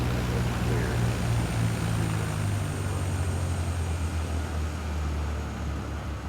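Cessna 152 propeller engine idling as it taxis toward a hangar in Microsoft Flight Simulator 2020, a steady low droning hum with faint airframe rumble, continuous and fairly loud throughout.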